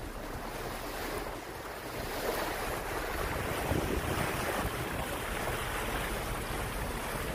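Steady wash of sea waves breaking and rolling, with wind buffeting the microphone throughout; no voices.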